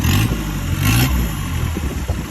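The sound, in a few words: dune buggy engine revving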